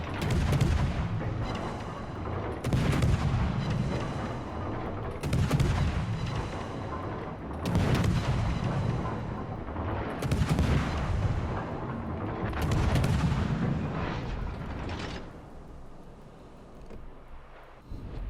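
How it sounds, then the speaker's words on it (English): Aoba cruiser firing HE shells in a naval battle game: a steady series of heavy, booming salvos roughly every two and a half seconds, each loud and close with a short rumbling tail. "that Aoba is still shooting HE at him"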